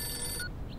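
A telephone rings briefly in a Hindi dubbed South Indian film, a single short electronic ring tone that cuts off after about half a second, heard alone.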